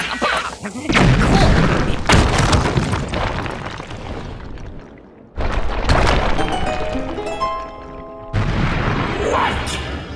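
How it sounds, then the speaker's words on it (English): A bomb blast in a comedic scene: a series of loud booming crashes and thuds that cut in abruptly, with music and voices around them. "A bomb went off"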